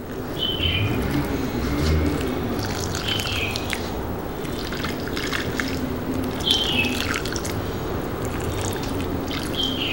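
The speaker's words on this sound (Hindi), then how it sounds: "अब इसको मैं पानी दे दूँगी।" Water is poured onto a potted money plant trained up a coir stick, giving a steady soft trickle while birds chirp and tweet in the background.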